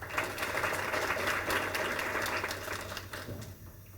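Sustained audience applause at an award banquet, steady dense clapping from a crowd filling the room, fading slightly at the end.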